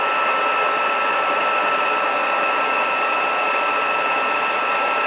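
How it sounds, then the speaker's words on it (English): Heat tool blowing steadily to set embossing powder on a card, a continuous loud whooshing fan-and-air hiss that holds the full stretch without pause. "And now I'm going to go ahead for the 3rd time and use my heat tool"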